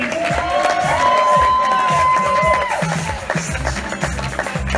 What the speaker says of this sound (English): Round of applause for Emily Howard and Ben